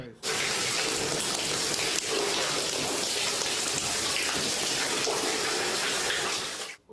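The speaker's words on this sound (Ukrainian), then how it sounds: "Водоспад зі стелі був і в сусідів у квартирі Олега." Water pours steadily through a collapsed apartment ceiling after years of roof leaks, a loud, continuous waterfall-like rush that fills the whole stretch, alone without talk.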